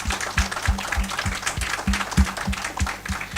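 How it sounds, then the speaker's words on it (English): Audience at a college annual debate event breaks into applause, a dense spread of claps with several sharper strong hits, moderately loud and sustained throughout with no talking. "Can we have a huge round of applause for Samparna?"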